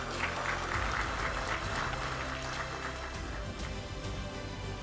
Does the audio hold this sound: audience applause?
yes